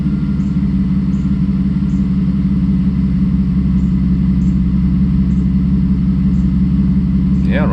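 A 1993 Mercedes 600SEC engine runs at a steady idle, a loud, continuous low hum with no revving, heard up close and alone.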